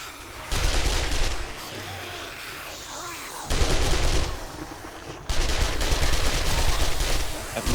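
Sustained bursts of gunfire from the zombie survival game 7 Days To Die during a horde night at Tier 6 Grover High, firing regular ammunition; loud rapid volleys in three stretches with brief lulls between.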